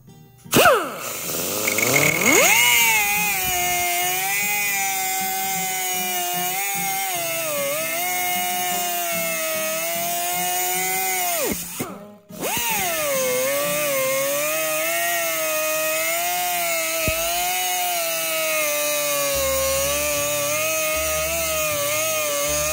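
Power tool cutting a steel piece clamped in a vise, a loud, steady, close whine with a harmonic buzz that runs almost nonstop and breaks off briefly once in the middle before resuming.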